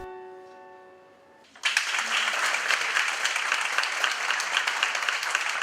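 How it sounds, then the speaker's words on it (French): A concert audience bursts into sustained, dense applause for the winners of a 2014 competition, loud and steady right after a held musical chord fades out. "c'est un public très attentif qui a applaudi les vainqueurs de l'édition 2014 de ce concours"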